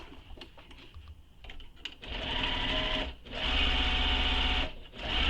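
Sewing machine running in steady stitching bursts while sewing a handmade backpack, loud and close, with a short pause near the middle and a brief break before the end, no talking.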